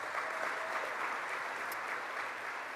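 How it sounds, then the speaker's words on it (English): Brief, even applause from an audience at a community announcement in Buffalo, a steady wash of clapping lasting under three seconds with no voices over it. "Give them a round of applause."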